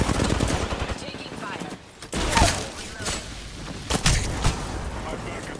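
Dense video game gunfire keeps up a near-constant rattle of automatic shots with a few louder bursts and thuds, and a voice talks over parts of it.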